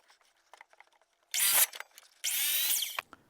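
Power saw cuts through a slightly twisted 2x4 in two loud bursts, the blade binding in the wood on the second, longer cut, with quiet clicks and handling noises between and after.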